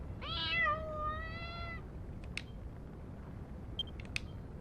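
A cat in the video game Dragon Quest Builders 2 gives one drawn-out meow near the start. Faint clicks and small chimes from the game follow, all quiet and without speech.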